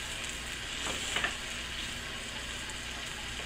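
Fruit flapjacks fry in butter in a pan with a steady, soft sizzle, and a couple of faint clicks of a utensil come near the middle.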